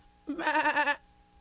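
A man imitates a goat with his voice, giving one wavering, nasal bleat about a second long, close and clear against a quiet room.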